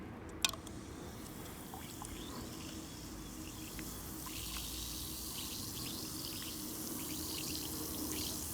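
An Alka-Seltzer tablet drops into water with a small plop, followed by a steady, faint fizzing hiss with tiny crackling bubbles that continues throughout, with no one talking.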